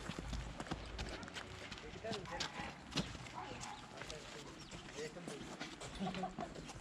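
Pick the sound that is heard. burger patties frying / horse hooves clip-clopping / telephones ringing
horse hooves clip-clopping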